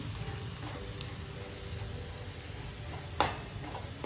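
Pav bhaji masala fries in oil with a faint, soft sizzle, broken by low scraping as it is stirred and one brief sharp clack of the utensil.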